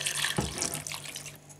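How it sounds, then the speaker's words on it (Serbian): Water poured into a cooking pot with meat and bay leaf, a steady close splashing pour lasting the whole moment, with a low hum underneath. "I nalijte vodom."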